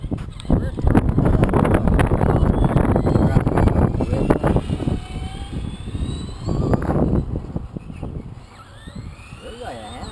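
The motor of an RC Skully monster truck runs with a loud, fluctuating whir and surges, mixed with wind buffeting, while people talk over it.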